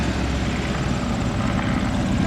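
A Fokker Dr.I triplane taxis on the ground, its propeller engine giving a steady, fairly loud drone that holds without a break.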